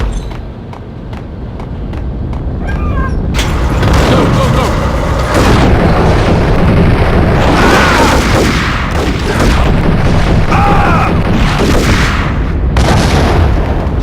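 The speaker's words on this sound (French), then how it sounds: "Grenade." A loud grenade blast and heavy booming gunfire fill the Max Payne video game without a break, with a voice partly buried in the din.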